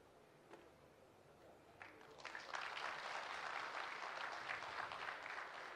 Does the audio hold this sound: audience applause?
yes